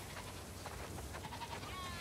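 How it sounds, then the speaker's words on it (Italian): Flock of sheep bleating in The Last of Us Part II, a faint cluster of overlapping bleats over steady ambient game noise as the animals are herded inside. "Wow, sono tantissime pecore"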